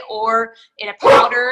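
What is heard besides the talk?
dog barking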